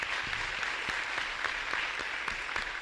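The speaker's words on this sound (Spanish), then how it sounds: "Fuerte aplauso hasta el cielo." A church congregation claps during a live Mass at a parish in Asunción, a steady, even wash of applause filling the room without any voices over it.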